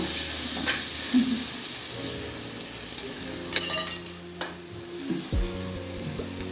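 Turmeric powder being stirred into a sizzling crab curry: oil crackles steadily while a spoon clinks against the pan a few times, with background music playing throughout.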